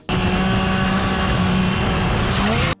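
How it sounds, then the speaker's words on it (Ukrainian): Motorcycle engine roaring loudly and continuously as the throttle is snapped open mid-corner on a slightly downhill bend, a dense buzzing tone holding steady then bending upward before cutting off abruptly. "Ще знаходячись в куті, я різко починаю відкривати газ."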